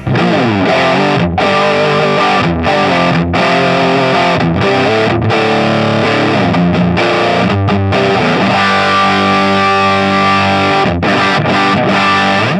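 A loud, saturated electric guitar from an Axe-Fx II chugs and rings out chords through a 4x12 cabinet tone, continuous and dense with short stops between phrases.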